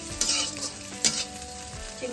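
Prawns fry in a hot pan with a bright, steady sizzle, punctuated by a few sharp scrapes and clinks of a utensil being stirred close by.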